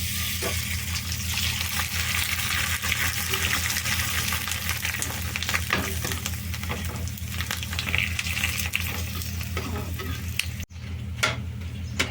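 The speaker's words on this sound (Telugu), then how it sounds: "ఆయిల్ పోసాను, వడియాలు వేద్దాం." Vadiyalu, sun-dried crisps, frying in hot oil with a steady loud sizzle and bubbling that runs throughout, plus occasional stirring clinks.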